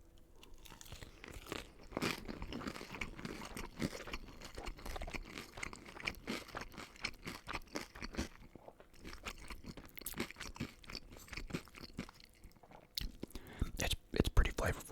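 Close, crisp crunching and chewing of the burnt, crispy edge of Domino's loaded tater tots, with repeated bites and wet mouth sounds in steady rhythm, rising louder near the end.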